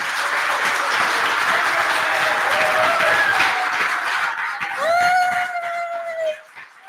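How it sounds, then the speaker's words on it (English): Audience applause at a meetup breaks out as a dense, steady wash of clapping, then fades near the end, with a few voices and a short whoop over the top. "So massive round of applause, please."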